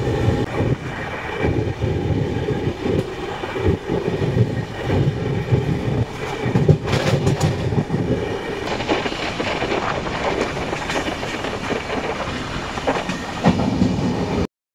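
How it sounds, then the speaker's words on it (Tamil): Passenger train running on the line after departing Usilampatti station in Tamil Nadu, heard from inside: a loud, continuous rumble with rhythmic wheel clatter and occasional metallic squeals, steady throughout without talk. "ஒரு ட்ரெயின் உசிலம்பட்டி ஸ்டார்ட் ஆகிடுச்சு."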